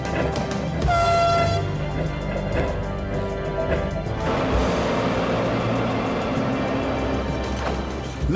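A train on the Baltic route toward Lithuania sounds a loud multi-tone horn in a short burst, followed by a steady rumble of running wheels and engine.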